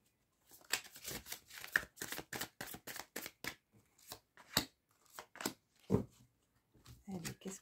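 Tarot cards being handled and covered on a table, with a rapid run of crisp shuffling, flicking and slapping card sounds in uneven bursts, close and fairly quiet.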